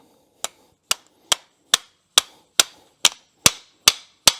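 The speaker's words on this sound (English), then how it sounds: "We're going to tap these two home first, and then we'll tap the bushing in." About ten sharp, hard taps at a steady, unhurried pace, a hammer tapping motorcycle front fork parts and a bushing into place, loud and close with no talking.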